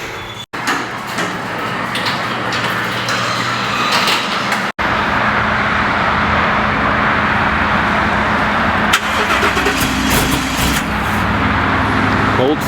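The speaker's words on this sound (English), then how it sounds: "Cold start on this Arab Super Truck." A big custom truck engine turns over on a cold start and settles into a loud, steady rumbling idle, broken by two brief dropouts early on.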